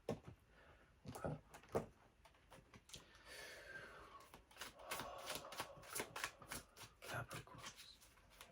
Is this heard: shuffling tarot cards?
yes